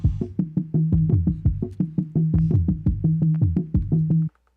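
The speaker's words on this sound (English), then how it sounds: "This is what I did to kind of filter out the percussion sample" A filtered percussion sample plays on an MPC Live 2 as a muffled, bass-heavy run of quick thumping hits in a steady looping groove, dull and low, before cutting off abruptly.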